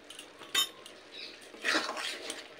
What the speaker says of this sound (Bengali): লঙ্কা আর গরম মশলার গুঁড়ো দিয়ে নেড়ে দিব চারিদিকে